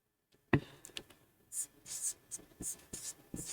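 A pen writes on paper while a quadratic equations problem is solved: a sharp first tap, then a string of brisk scratchy strokes and short scribbles, close and clear with no talking.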